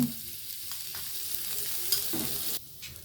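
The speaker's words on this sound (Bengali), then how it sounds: "এবার চালটিকে ভালোভাবে আমরা ভেজে নেব" Polao rice fries in ghee with ginger paste, cardamom and bay leaf for a Puran Dhaka chicken polao, a soft steady sizzle with faint scraping stirs, close by and fairly quiet.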